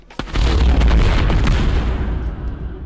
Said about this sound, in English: wherever you're looking is where the blast will occur